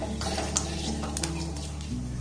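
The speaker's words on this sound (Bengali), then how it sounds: "এবার একটা শুকনো লঙ্কা এখানে দিয়ে দিলাম, সামান্য পরিমাণে 5 ফোড়ন দিয়ে দিলাম।" Dried red chilli and a pinch of five-spice (panch phoron) land in lightly heated oil for a raw mango pickle, giving a soft steady sizzle with clinks of a utensil against the pan and faint background music.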